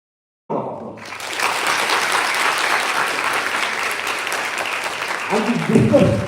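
An audience at a special lecture breaks into loud, sustained clapping for the Vice Chancellor, starting abruptly after a brief silence and holding steady before a voice begins over the tail end.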